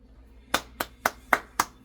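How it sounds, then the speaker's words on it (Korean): A single person claps five times in a slow, even rhythm, each sharp hand clap close and distinct against a quiet background. "박수 보냅니다."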